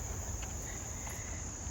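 Crickets chirp steadily outdoors, a faint continuous high-pitched trill holding evenly throughout with no voices.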